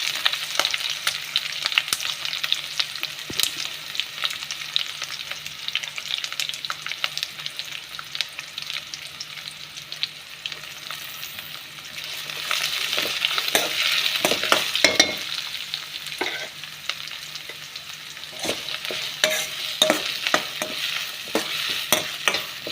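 Two to three chopped onions fry in oil already spiced with green chillies, a steady close sizzle punctuated by repeated scraping and clacking as a spatula stirs them through the pan.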